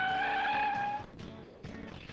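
A car brakes hard at night with its tires skidding. A loud, tonal squeal lasts about a second, then gives way to rougher scraping bursts of tire noise that fade out.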